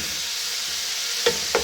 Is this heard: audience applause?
no